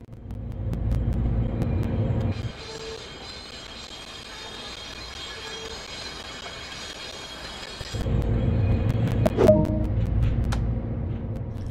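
An Amtrak Metroliner cab car in Train Sim World starts to roll, a loud low rumble and engine drone, then a quieter steady hum before the heavy rumble returns with metallic clanks and squeals.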